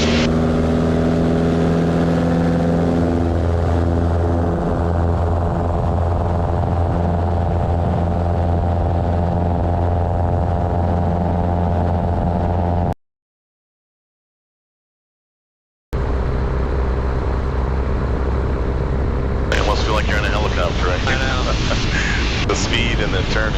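Light airplane engine of a Zenith Super Duty in flight, a steady loud harmonic drone throughout with a brief dropout midway, then power rising and brightening near the end, voices talking over it.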